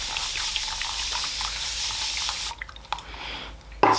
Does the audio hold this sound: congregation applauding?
no